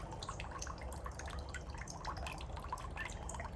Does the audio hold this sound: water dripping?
yes